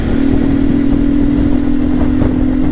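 A scooter rides past on a street in the evening, its steady, loud engine drone running continuously close by, with no talk over it.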